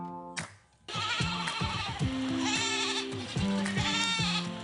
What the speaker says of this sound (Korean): 이 너른 산 들판을 제 집 안방 마냥 자유로이 누리고 있는 흑염소 떼를 만났습니다